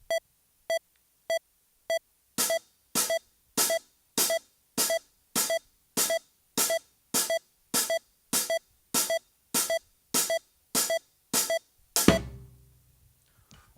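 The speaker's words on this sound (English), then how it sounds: "there's being able to play ahead of the beat" A steady metronome click ticks alone at first, then sharp drum hits join, landing just before each click in an even rhythm until a final crash rings out.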